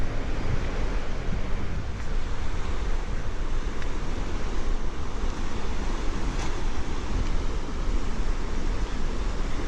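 The Nolichucky River flows beneath Chestoa Bridge near Erwin, Tennessee, a steady broadband rush of water mixed with wind noise, constant and moderately faint, with no one talking.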